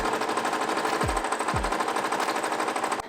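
A sewing machine runs close up, stitching along both sides of a folded piece made from tiny fabric scraps. The rapid mechanical chatter is steady and continuous for a few seconds, with a couple of soft low thumps partway through.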